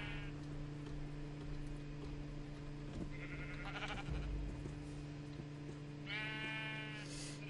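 Minecraft sheep bleat as several wavering synthetic baas, one short cry early and a longer, louder one near the end, over a faint steady hum of game background sound.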